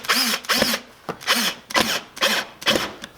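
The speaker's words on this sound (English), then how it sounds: "I have a drill" A handheld power drill drives screws into daytime running lights during an install on a 2017 Honda Civic EX-T, whirring in five short, repeated bursts close to the listener with brief pauses between.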